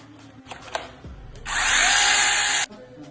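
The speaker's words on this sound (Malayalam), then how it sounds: "ഇതാണ് 620 RPM വരെ വരുന്ന ബാറ്ററി ചെയിൻസോ" A battery chainsaw rated up to 620 RPM whirs up to a loud, steady high-pitched buzz, runs for about a second, then cuts off abruptly, close up.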